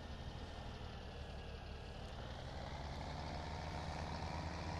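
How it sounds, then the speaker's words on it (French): An old little tractor in the video game Farming Simulator 17 runs with a steady, rough low engine rumble. The sound stays constant and fairly close throughout, with a faint whine on top. "Ah bon bruit ce petit tracteur. Il est vieux mais il fait bien son taf."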